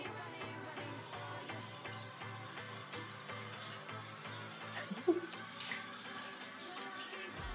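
Water is poured onto a ceramic-coated surface indoors, a soft trickling and splashing under a faint steady hum, with a brief louder splash midway.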